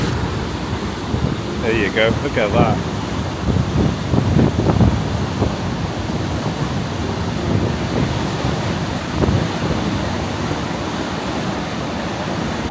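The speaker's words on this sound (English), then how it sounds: "holes in dams with lots of water flowing through" Water rushes steadily through a hole in a dam, a loud continuous broadband roar like surf, with a brief voice speaking over it.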